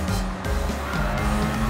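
Overpowered Mazda MX-7 racing in Gran Turismo 7, a brief burst of revving engine drone with shifting pitch, loud and close.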